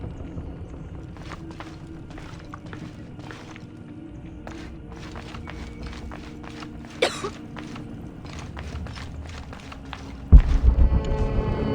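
Lara Croft coughs in the video game Shadow of the Tomb Raider near a fire, the faint coughs mixed with footsteps, creaks and mechanical clatter, followed by a louder thump near the end.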